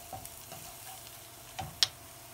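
Ramen noodles stir-fried in a pan make a faint, quiet sizzle, with a few soft stirring scrapes and one sharp clink near the end.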